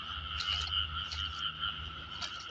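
Several frogs croak in a dense, steady chorus at close range, with repeated rhythmic calls layered over one another and no voices.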